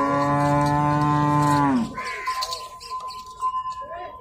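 A cow at a busy cattle market in Jhang bellows one long, loud, close moo that ends abruptly, followed by fainter market chatter, bird chirps and scattered background noise.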